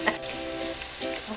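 Onions sizzling in a pan for a mixed vegetable stir fry, a steady close frying hiss with a few stirring knocks, moderately loud and alone.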